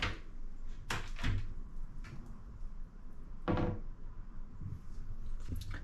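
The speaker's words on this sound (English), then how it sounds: "And also, these are slow closed doors." Two or three soft thuds of slow-close cabinet doors easing shut under a Glacier Bay 24-inch utility sink, spaced a couple of seconds apart, close by in a quiet room.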